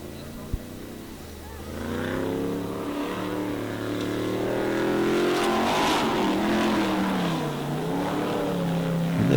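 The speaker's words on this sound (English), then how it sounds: "He drives through the water, not over it." A Formula Offroad truck ploughs through water at an Icelandic torfæra competition, its engine roaring loudly and revving steadily higher under continuous commentary.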